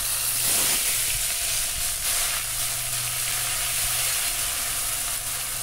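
Onion paste sizzles loudly in hot oil that already holds fried whole spices and a little sugar, a steady close hiss of frying that runs continuously throughout, for a Bengali rohu fish curry with mustard oil.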